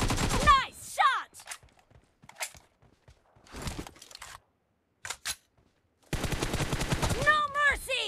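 Shooter video game gunfire: several short bursts of shots separated by gaps, with voice chat and game chatter talking over parts of it at close, fairly loud level.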